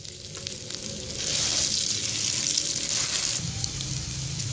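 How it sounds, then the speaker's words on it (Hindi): An egg sandwich frying in a pan and turned to cook the other side, giving a steady, close sizzle that rises and holds loud. "दूसरी साइड से इसे फ्राई करने के लिए दूसरे पीस की भी साइड में चेंज कर दूंगी, ऐसे ही अच्छे से इसे फ्राई करने के लिए।"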